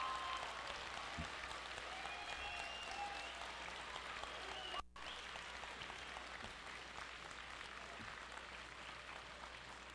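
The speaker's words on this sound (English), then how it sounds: "can I have my parents and guardians of these students please stand up and give these individuals a round of applause" Audience at a 2022 Newport High School graduation ceremony applauds parents and guardians, a steady wash of clapping from a large crowd that carries on for the whole stretch with a brief dip midway.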